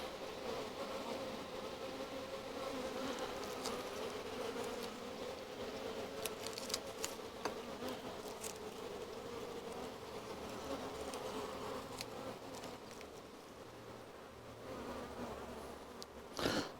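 Honey bees buzz densely around an open hive during a frame inspection, a steady, close, droning hum that swells and fades slightly, with a few brief rustles and knocks near the end.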